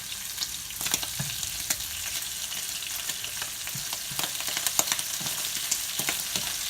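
Food sizzles in a pan on high heat while biscuits and gravy are being made, a steady, bright, close frying hiss broken by frequent small crackles and scraping stirs.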